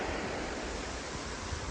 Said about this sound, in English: this is the river that runs down the side of the campsite